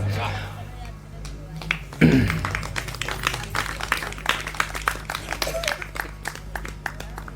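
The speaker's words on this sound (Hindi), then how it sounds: "ताली जब बजाएं तो जोर से बजाएं, थोड़ा आवाज जानी चाहिए पूरे गांव में।" A crowd claps in a fast, dense burst of many hands, fairly close, with a steady hum underneath.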